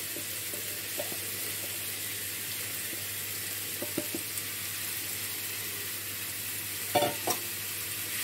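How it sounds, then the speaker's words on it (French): Meat browns with onion in a pan for a tagine, a steady broad sizzle running throughout with a few soft stirring clinks, close and alone without talk. "on va faire revenir notre viande"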